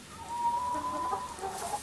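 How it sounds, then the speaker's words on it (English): A hen in a chicken coop gives a soft, gentle clucking warble, faint and close, drawn out over a couple of seconds. "I think she is the gentlest voice of these four hens"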